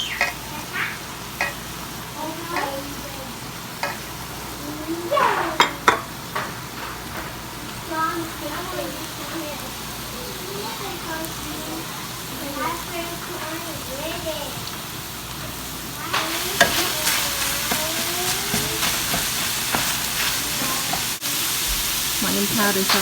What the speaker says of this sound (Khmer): ព្រោះមិនអញ្ចឹងទេយើងឆាលីងត្រដាច់ទឹក